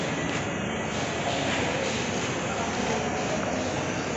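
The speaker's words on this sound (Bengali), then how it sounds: "তো এই হচ্ছে মেট্রো স্টেশন" Delhi metro station ambience: a broad, steady rumble of a train and station noise, loud and continuous, with crowd murmur beneath it.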